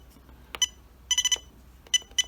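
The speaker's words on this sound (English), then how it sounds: "once you hear that long beep, that's dead center" A HotRC CT-6A six-channel transmitter's trim buttons give off clear electronic beeps: a single beep, a quick run of four, then two more spaced tones over a quiet background.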